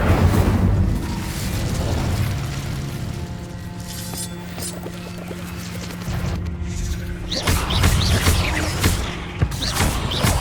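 An Incendio fire spell is cast in the Hogwarts Legacy video game, with a deep roaring burst and booming impacts over a dense rumble of game effects. The sound swells again with fresh crackling blasts toward the end.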